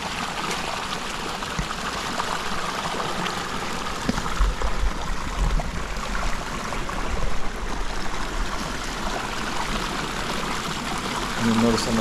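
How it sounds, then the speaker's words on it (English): Water pours off rocks in a backyard pond waterfall, a continuous broad rushing and splashing wash that stays steady and fairly close for the whole stretch. "The way the water falls off of each individual rock uniquely is super cool to see."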